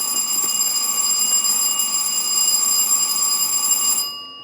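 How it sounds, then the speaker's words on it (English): An electric school bell rings loudly and steadily in a classroom, a continuous metallic clang lasting about four seconds before cutting off abruptly. "that's the bells"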